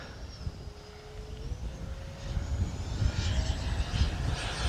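A Freewing A-6 Intruder RC jet makes a full-speed pass down the runway, its steady whining engine tone rising in pitch and loudness as it approaches, over light wind rumble.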